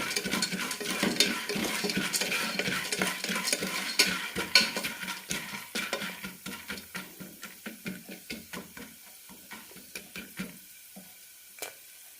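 Corn kernels begin popping in a pan for homemade popcorn, first under a steady sizzle and then as a rising run of sharp, distinct pops close by, growing sparser toward the end.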